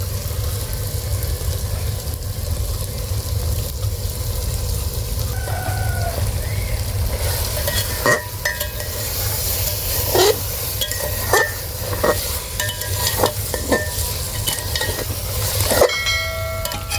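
Potatoes frying and being stirred in a pan for karela gosht, with a steady sizzle and intermittent scraping stir strokes and clinks over the last half; no one talks.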